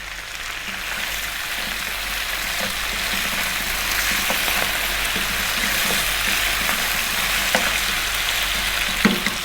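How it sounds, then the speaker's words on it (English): Cumin seeds and fresh curry leaves fry in hot oil, a close, steady sizzling hiss with scattered small pops and crackles, no talking. "We're going to add 2 teaspoons of cumin seeds. We're going to add some fresh curry leaves."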